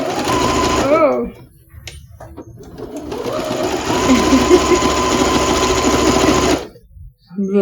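A sewing machine runs steadily for several seconds, its motor whirring loudly and evenly with a brief pause near the start, while people talk over and around it.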